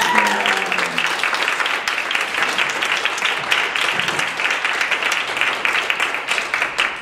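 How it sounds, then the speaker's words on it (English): A symposium audience claps for the students who organised it, a sustained, even round of applause at moderate distance with a few voices briefly at the start. "So let's give them a nice round of applause."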